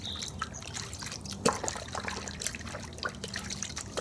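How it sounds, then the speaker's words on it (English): Car wash soap water is agitated in a bucket, giving faint, close trickling and sloshing with scattered small splashes. "Now, as you agitate the water,"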